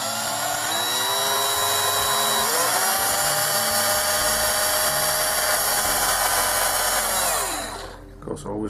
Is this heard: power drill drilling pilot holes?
yes